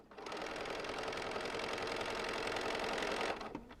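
Sewing machine stitching pieces of a poinsettia quilt block, one continuous close mechanical whir at an even rapid rhythm, stopping abruptly near the end.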